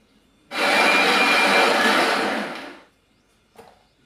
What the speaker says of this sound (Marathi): आता हे मसाला मिक्सरला वाटून घेऊया आपण.